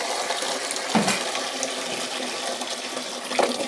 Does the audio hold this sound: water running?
yes